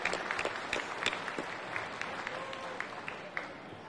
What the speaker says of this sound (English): I think we should also give a round of applause to all of the sponsoring organizations and the vendors here